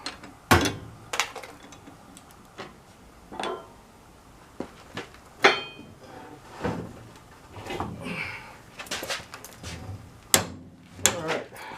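Breaker bar working on the pinion nut of a 14-bolt axle in a 1990s OBS GMC/Chevy truck: scattered metallic clicks, knocks and ratcheting clunks at uneven intervals, close by, with brief quiet gaps between efforts.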